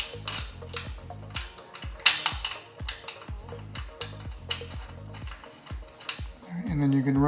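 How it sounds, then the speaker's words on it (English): Supplied screws are driven by hand with a screwdriver into a mounting bracket with lock washers on a rooftop tent platform. It gives a quick train of repeated metallic ratchet clicks with a louder clank partway through, close and rhythmic. "And then you can run those in with the screwdriver that they send you."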